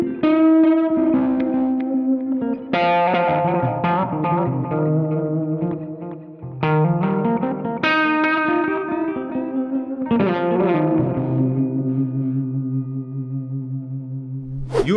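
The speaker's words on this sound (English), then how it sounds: "Unsynchronized tape machine, add random modulation to approximate tape delays with motor issues." Fjord Fuzz Loke pedal set to an unsynchronized tape echo, a sustained distorted guitar line with wobbling, randomly modulated repeats that swell and smear over several phrases, loud and alone.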